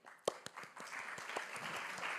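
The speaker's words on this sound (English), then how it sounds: "Very polite clapping." Light, polite clapping from an awards ceremony audience after a finalist, Douglas Shire Council, is announced; sparse individual claps at first, then thickening into a steady, soft patter.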